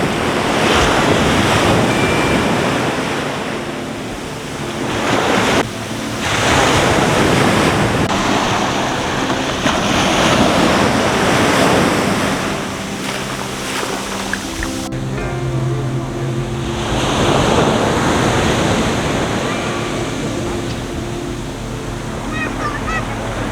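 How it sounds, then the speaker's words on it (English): Ocean waves at Mismaloya Beach near Puerto Vallarta, loud and close, surging and crashing in repeated swells with wind buffeting the microphone and no talk. "But that also makes going up to the ocean that much more refreshing."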